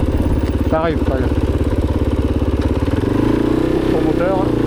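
A Kove 450 motorcycle idles close by on a desert route in Morocco, its engine putting out a loud, steady low throb with a slight rise in pitch, while people talk over it.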